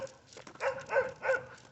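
Dog out on a walk giving a few short whimpering yips, three quick rising cries close by, fairly loud, with no talk over them.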